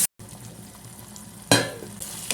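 Tomatoes stirred and frying in a pan for a Malayalam ivy gourd mappas curry, a steady close sizzle with a sharp burst of stirring and scraping midway and another near the end.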